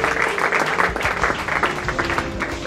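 A church congregation applauds during a seminar service, steady crowd clapping carrying on throughout without break.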